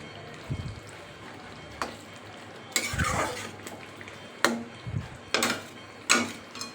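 A brinjal curry (kharam vanga) with added hot water is stirred in a pot, with a soft bubbling background broken by several sharp scrapes and clinks of a spoon against the vessel, close and fairly quiet.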